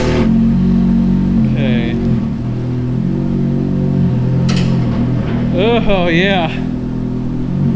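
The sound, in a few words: Ferrari F430 engine while driving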